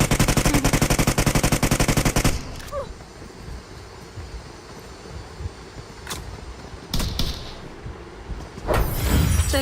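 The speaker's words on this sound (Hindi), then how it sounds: "कौन सी गन चला रहा है भाई" Rapid automatic gunfire from a video game shooter bursts loudly for about two seconds, followed by quieter ambient game sounds with scattered sharp shots, then another dense volley at the end.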